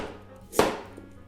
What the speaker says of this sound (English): Thinly slice the radish.